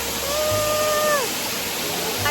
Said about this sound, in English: The waterfalls now is so beautiful.